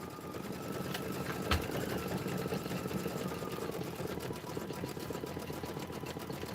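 A sewing machine stitches an autumn border napkin fabric, a steady, fast mechanical whir with a rapid needle rhythm that runs without a break, plus one brief knock early on.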